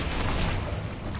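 Confringo fire spell cast in Hogwarts Legacy, a short dense burst of fiery explosive rumble that fills the moment, loud and close with no talking over it.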